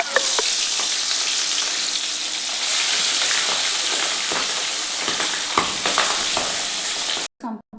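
Fish frying in hot oil for an Odia fish and potato curry, a steady loud crackling sizzle with sharp pops throughout, cutting off abruptly near the end.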